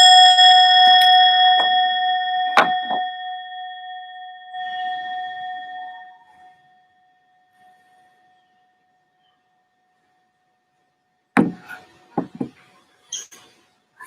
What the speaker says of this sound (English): going to ring the bell again